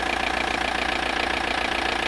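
Near, continuous idle of a diesel car engine at an MOT emissions test, holding a steady knocking rumble throughout, with no speech over it.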